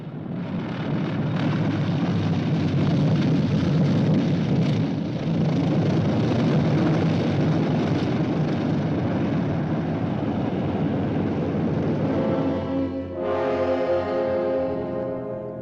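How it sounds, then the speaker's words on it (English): A troop carrier aircraft from a 1958 film comes in to land with a loud, sustained roaring drone. Near the end the noise dips, and a tonal, horn-like engine whine takes over. "Troop carrier US 11034, you may land on runway 170."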